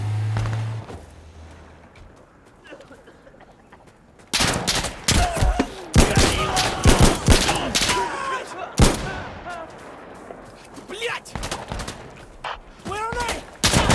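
Insurgency Sandstorm gunfire starts after a quiet stretch: loud, close shots and rapid bursts crack out in clusters, and brief voices come through near the end.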